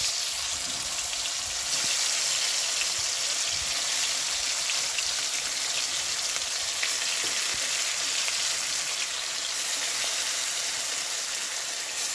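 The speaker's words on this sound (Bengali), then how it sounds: "সর্ষে, জিরে, লঙ্কা, হলুদ, লবণ, তেল একসঙ্গে দিয়ে এই মাছগুলো দিয়ে দিচ্ছি কড়াইতে" Hilsa fish coated with mustard, cumin, chilli, turmeric, salt and oil fries in a wok, giving a continuous, even sizzling hiss that holds steady throughout, with no voices.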